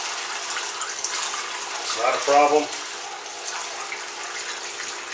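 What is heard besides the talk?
pouring homebrew beer wort into primary fermenter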